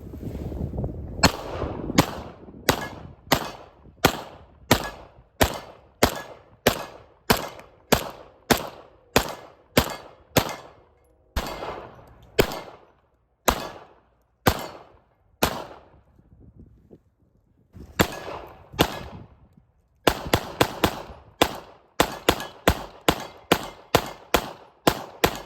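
Rapid sequence of sharp pistol shots from a Staccato P or Springfield Prodigy, fired in quick strings with brief pauses between bursts, loud and close, outdoors with some wind.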